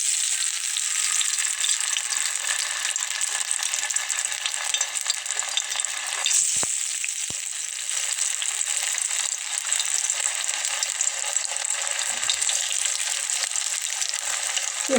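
Raw potato snack pieces fry in hot oil over medium heat, a dense, steady sizzle that hisses on evenly from start to finish, close and fairly loud, with one or two brief clinks partway through.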